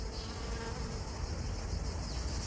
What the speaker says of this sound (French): Il ressemble à une guêpe, ouais, mais c'est une abeille.